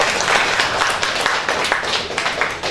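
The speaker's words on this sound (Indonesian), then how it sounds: "Tepuk tangan buat Anda semua." Audience applause at an Indonesian professional training seminar, a sustained burst of many hands clapping close and loud throughout the short clip.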